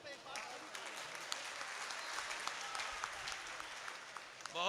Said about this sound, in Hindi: इस शेर पे एक बार सभी तालियां बजा दें।